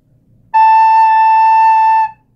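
A soprano recorder holds a single steady A, fingered with the thumb and two fingers, for about a second and a half. The tone is clear and pure and is played alone in a quiet room.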